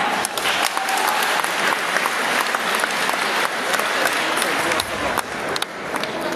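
Crowd at a school spring-day assembly applauding loudly, a dense continuous burst of clapping that fills the whole stretch with no voices standing out.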